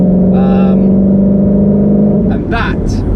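Ford Shelby GT350 Mustang V8 revving on the road during a test drive, a loud steady engine drone that surges and climbs in pitch near the end, heard from close by.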